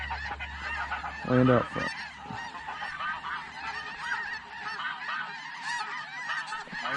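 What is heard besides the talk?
snow geese honking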